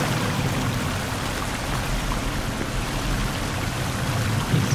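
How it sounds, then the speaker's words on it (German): Water splashing and trickling in the survival horror game Sons of the Forest, a steady, fairly loud wash of patter without pauses or voices. "Hört das Wasser plätschern?"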